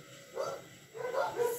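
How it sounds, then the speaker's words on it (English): Dogs barking inside a house, two muffled, fairly faint barks in the background over a steady hum. "there's barking in the background because of the dogs"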